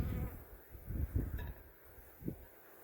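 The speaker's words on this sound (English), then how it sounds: "These bees are being a little more angry that I have this hive open up." Honey bees buzz low and steady around the listener at an open hive, with swells as insects fly close past, faint overall and no voices.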